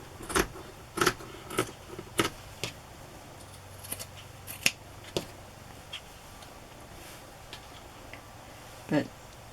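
Scissors cut through material for a book spine in a series of sharp, close snips and clicks, spaced irregularly with short quiet gaps between them.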